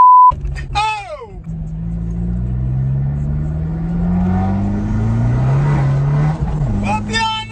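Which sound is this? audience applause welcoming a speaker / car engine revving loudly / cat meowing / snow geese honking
car engine revving loudly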